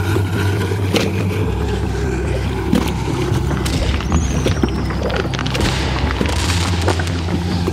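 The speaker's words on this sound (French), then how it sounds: "c'est des gros pétards" Large firecrackers thrown into the water away from a boat go off in a string of deep booms and thuds over a constant rumble of engine and water.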